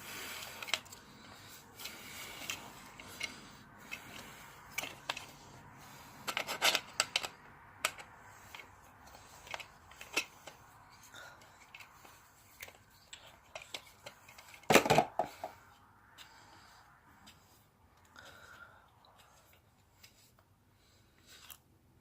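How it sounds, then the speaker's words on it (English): Metal clicks, scrapes and taps as an Ontario M9 bayonet is taken apart with a flathead screwdriver, sporadic close handling noises with a sharper clatter midway, no talking. "you take this flathead screwdriver, you would link it into the screw back there, and you disassemble it, which I'll show you now."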